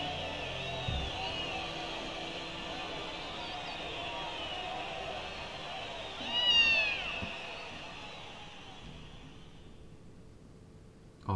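A cat meows from its perch on a player character's shoulder in the video game .Hack//G.U., a short mewing call rising above a steady bed of game music and ambience.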